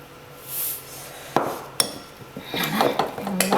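A spoon clinks and scrapes against a bowl while squash cake batter is mixed, a few sharp knocks followed by quicker rattling strokes, close and clear with no talk.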